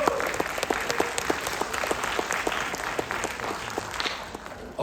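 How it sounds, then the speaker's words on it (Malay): A business-event audience gives a strong round of applause for Tektan, the new South Asia general manager, steady sustained clapping throughout at close range. "Bagi Tektan satu tepukan yang kuat."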